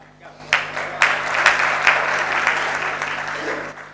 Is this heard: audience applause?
yes